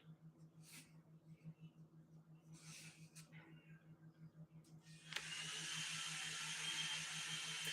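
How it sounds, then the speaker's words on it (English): Partway through, a blow dryer switches on with a sudden click and then roars steadily, a loud constant airy hiss over a low mechanical hum. "And I'm not going to talk over the hairdryer."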